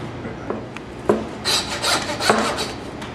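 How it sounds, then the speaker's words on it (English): A handsaw cuts through bone while a hindquarter of beef is broken down, giving several quick rasping strokes in an uneven rhythm, close and fairly loud. "Handsaw."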